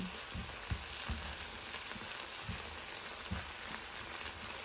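Food sautés in a pan with tomato, a soft steady sizzle with occasional stirring knocks, close but fairly quiet with no talk.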